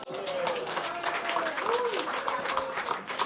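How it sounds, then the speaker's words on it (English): A small group claps in a brief, brisk round of applause at a birthday party in the House of Lords, London, while a voice talks over the clapping. "You may give him a small round of applause."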